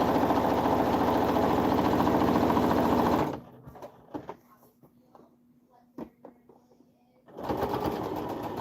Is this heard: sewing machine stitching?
yes